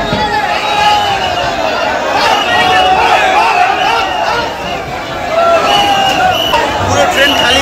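Crowd chatter at Thakurnagar station during the Thakurnagar Mela, as a local train empties: dense overlapping voices and general bustle, continuous and close, with a brief dip midway.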